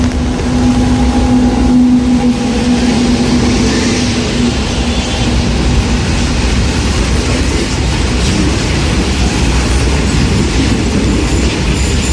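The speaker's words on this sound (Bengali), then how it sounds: "ট্রেন অলরেডি ঢুকে গেছে" A local train arriving at Howrah station on a rainy day, a steady loud rumble of railcars with a faint wheel squeal and a sustained tonal hum early on, clattering on without speech.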